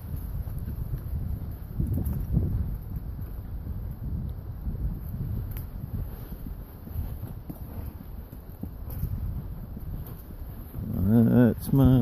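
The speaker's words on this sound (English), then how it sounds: "it's very windy, and it feels colder than it is because of the wind." Steady low wind rumble buffeting the microphone throughout during an early morning ride, with a brief burst of louder noise near the end.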